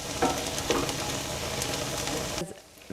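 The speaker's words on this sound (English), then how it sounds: "Every time I stir, I want to make sure that I'm scraping up all those caramelized sugars" Onions caramelizing in a soup pot sizzle steadily while a spoon stirs and scrapes the bottom, with a few louder scraping strokes, before the sound cuts off abruptly near the end.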